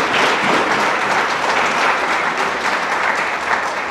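A church congregation applauds loudly and steadily, a dense wash of many clapping hands that carries through without a break and with no clear speech.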